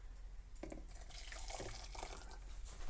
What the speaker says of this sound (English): I'm adding 1 cup of hot water to the jelly powder.